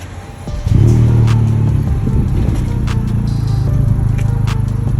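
A Honda Civic Type R fitted with anti-lag, its engine starting up and then holding a loud, steady, throaty idle close by, with no talk over it.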